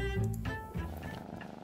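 A cat purrs in the video game Behind the Frame, a close, low rumbling purr with a brief tonal meow-like sound at the start, short and fairly quiet.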